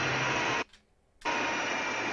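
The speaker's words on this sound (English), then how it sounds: "It's just a vacuum cleaner." A vacuum cleaner roars at full power, cuts out to near silence, then starts again at full strength, standing in for an alien machine in the 1953 War of the Worlds, loud and steady with no voices.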